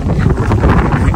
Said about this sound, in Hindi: भाई आंधी चल रही है, देखो लू चल रही है कितनी गर्म।